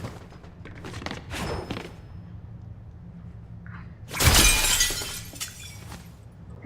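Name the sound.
window glass shattering in Fortnite video game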